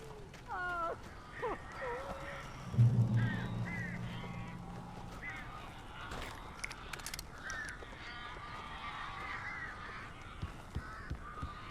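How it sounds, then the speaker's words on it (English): Crows caw in the Alan Wake Remastered video game, a scatter of harsh calls over a low ambient rumble, with one louder honking burst early on and fainter caws continuing throughout. "These birds are weird."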